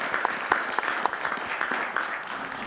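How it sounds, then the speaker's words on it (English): An indoor audience at a business building gathering applauds Dean Templin and the group with a steady, moderately loud patter of many clapping hands. "that's a round of applause to Dean Templin and to the whole group"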